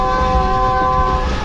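A Subak Raftar railcar rolls along the track toward the hills, a loud continuous rumble from inside the carriage with a sustained tonal horn-like drone held over the low engine and wheel noise, no voices heard.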